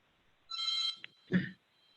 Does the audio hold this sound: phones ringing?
yes